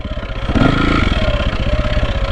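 A 2001 KTM 400 MXC dirt bike engine running while riding through slippery woods, a steady close thumping single-cylinder drone with a slight rise in revs, heard alone.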